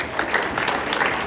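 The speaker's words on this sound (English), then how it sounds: "I do not want you to hold your applause" Applause from an audience at an after-dinner speech event, a brief burst of many hands clapping, moderately loud and fairly even.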